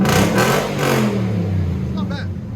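A 2019 Nissan Titan pickup's 5.6-liter V8 revs through a Stillen cat-back exhaust, a deep throaty rise and fall heard close, with people talking over it.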